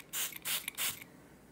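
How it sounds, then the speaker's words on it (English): A handheld spray bottle filled with vinegar gives three quick hissing squirts in close succession, close and fairly quiet, with a faint click of the trigger and little else around. "I'll take my vinegar in my spray bottle"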